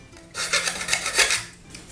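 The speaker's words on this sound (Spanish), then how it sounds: "vamos a cortar, vamos a limar y lijar las piezas" A brief scratchy rasp of filing against a small hard part of a model ship kit, a few quick strokes close by, fading out after a couple of seconds.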